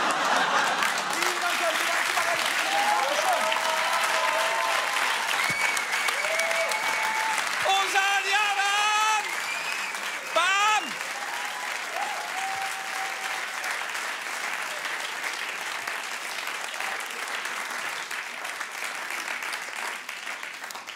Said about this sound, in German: Großen Applaus für die beiden hier.